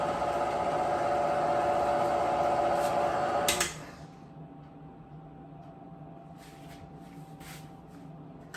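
Electric mixer whirring steadily on low speed through pound cake batter, a loud continuous hum that drops abruptly to a quieter, softer drone partway through, with faint clinks near the end.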